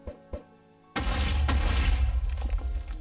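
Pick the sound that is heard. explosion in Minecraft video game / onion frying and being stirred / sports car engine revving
explosion in Minecraft video game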